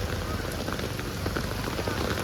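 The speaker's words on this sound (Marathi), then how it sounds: "कडकवाला पाऊस पडायला लागलेला आहे" Heavy monsoon rain pours down in Kurla, Mumbai, a dense, steady roar of drops hitting surfaces all around, loud and unbroken throughout.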